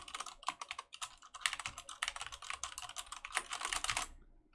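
Rapid, uneven keystrokes clatter close on a computer keyboard as keys are mashed at random in dense bursts, then stop abruptly near the end.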